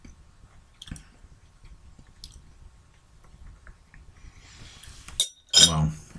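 A spoon serving Pickapeppa sauce gives a few quick metallic clinks near the end, after mostly quiet handling with soft background noise.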